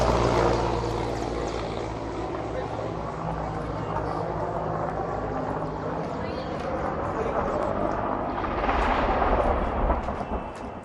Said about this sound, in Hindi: ये सीडीएस जनरल रावत के हेलीकॉप्टर के क्रैश होने से पहले का ये वीडियो सामने आया